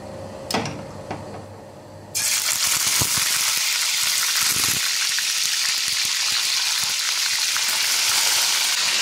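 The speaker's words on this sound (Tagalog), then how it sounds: "Ipiprito ko muna siya guys ng half cook lang" Pork being half-fried in hot oil in a pan: after a couple of quiet knocks, a loud, dense sizzle bursts in and holds steady and close, crackling continuously to the end.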